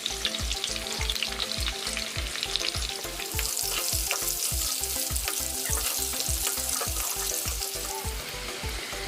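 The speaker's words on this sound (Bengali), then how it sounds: "আলুগুলি ভাজা হয়ে গেছে।" Halved medium potatoes dusted with salt and turmeric fry in hot oil, giving a loud, steady sizzle with a quick, regular knocking of stirring running through the whole stretch.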